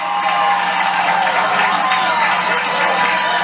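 A stadium crowd of football fans at a 2000 A.L. Brown vs Northwest Cabarrus high school game roars steadily, a dense, constant wash of cheering and noise with commentary voices mixed in.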